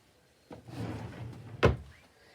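A storage drawer holding embroidery floss slides open with a steady rubbing rasp and ends in a sharp thunk, heard close up in a quiet craft storage room.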